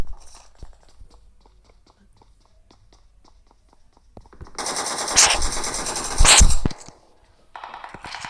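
Bursts of DP machine gun fire in a video game, a sustained loud burst midway and another sharp burst shortly after, with quieter game sounds before and after.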